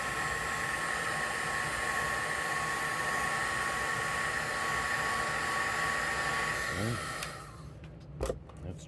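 A hair dryer blows steadily and close for about seven seconds, drying black paint on a wooden bed, its whining hum then cutting off, followed by a few faint handling knocks.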